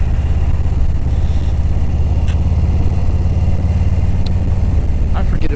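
Police motorcycles idle and rumble steadily close by on a street, a continuous low engine drone with little change in pitch, while a voice talks over it.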